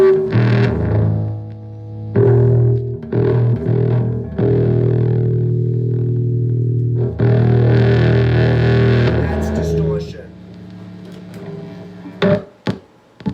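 Heavily distorted bass guitar through an amp with high gain, playing sustained low notes in sections, thick and fuzzy with gritty overtones, ending in a few sharp pops and silence.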